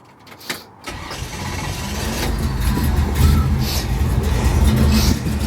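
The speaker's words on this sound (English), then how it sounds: "Let me start it up for you." A 1957 Chevy restomod with a ZZ4 aluminum-head crate motor and Flowmaster exhaust starting up: a brief cranking burst, then the engine catches and settles into a steady, loud, low rumbling idle close by.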